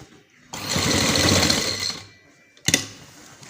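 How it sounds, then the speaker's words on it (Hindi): A sewing machine stitches a decorative design on a trouser cuff: a close, loud mechanical whirr runs for about a second and a half, then stops, followed by a brief second burst. "आराम से सिलाई लगाएं"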